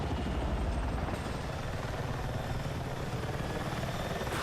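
Attack helicopter in Battlefield 6, its rotor chopping and engine roaring loud and steady throughout, with no voices.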